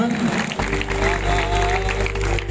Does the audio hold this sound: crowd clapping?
yes